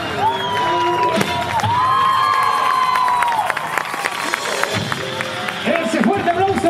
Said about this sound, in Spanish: ¡Ese fuerte aplauso para las musas!